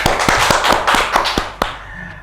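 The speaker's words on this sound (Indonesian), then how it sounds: "tepuk tangan dulu untuk Mr. Puisi karena sudah bergabung bersama kita" Several sharp, uneven claps from a handful of people ring out for a guest joining a debate-review talk show, then stop.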